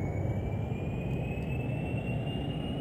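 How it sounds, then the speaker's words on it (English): Jet engines of a space plane in Kerbal Space Program throttle up on the runway, a loud, steady roar with a high whine slowly climbing in pitch, heard alone. "we are going to just throttle up, let the engines build up, and then pop off that brake"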